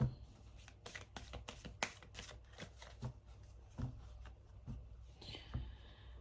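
A deck of tarot cards being shuffled and cut close up, giving a string of quick crisp riffling slaps in an uneven rhythm, with a faint voice at the end.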